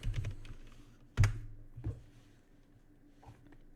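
Close computer keyboard typing while naming a blueprint class in Unreal Engine 5, a few sharp key clacks with a heavier thump near the start, then quieter taps, heard alone.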